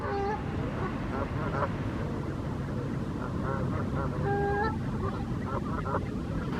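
Several Canada goose honks ring out in short bursts over a steady background hum, moderately distant and outdoors in a park during breeding season.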